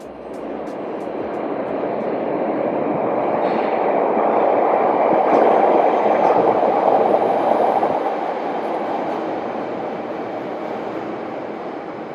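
A Chicago CTA train rumbles past close by, a broad steady roar that swells in the middle and eases off, with faint high squeals near the start.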